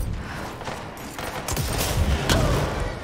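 Enemies fire guns in the action game Control, a steady rattle of shots with a couple of sharper, louder bursts standing out from the background din.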